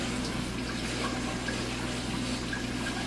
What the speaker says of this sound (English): we're just going to give this a good little rinse here